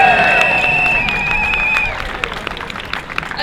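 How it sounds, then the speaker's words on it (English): A rally crowd in Newcastle upon Tyne cheers, whistles and claps loudly for York, the roar holding strong before easing into scattered applause and shouts. "So let's give York a cheer as well."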